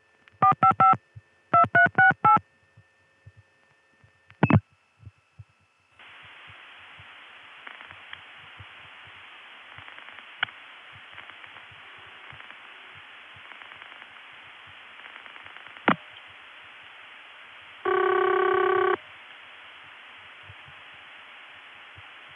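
Touch-tone dial beeps and a brief tone burst give way to a steady telephone ringback hum on an early 1980s step-by-step tandem exchange in Olney, Illinois, interrupted by a sharp click and a strong 2600 Hz pure-tone burst near the end.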